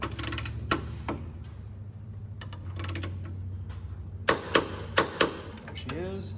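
Torque wrench being ratcheted on a lower control arm bolt of an S197 Mustang, set to 129 foot-pounds: a scatter of light mechanical clicks, then a run of four sharp, close clicks near the end.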